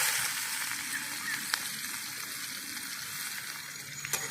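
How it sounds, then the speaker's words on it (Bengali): Chopped onion fries in hot oil with whole cumin and bay leaf, a steady broad sizzle throughout with a few faint utensil clicks near the pan. "পেঁয়াজটাকে ভালো করে নিয়ে লাল করে ভেজে নেব।"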